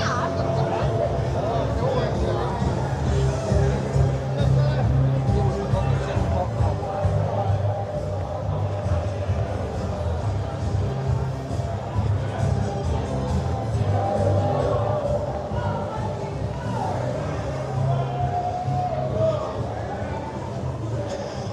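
Dense crowd hubbub fills the whole stretch, a steady wash of many overlapping voices and general bustle close around, with no single speaker standing out and no pauses.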